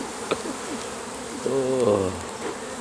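Honey bees buzz around a hive at a bee farm, one insect's drone swelling close by for a moment among softer faint buzzing.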